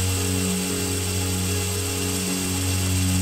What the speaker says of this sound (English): I'm using a serrated wheel and a 36 grit, worn 36 grit belt for the profiling.